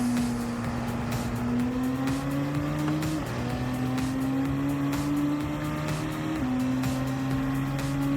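Mercedes 190E race car in Gran Turismo 7, its tuned 580 bhp engine droning loudly at high revs, pitch climbing steadily through two gear changes, with no voices over it.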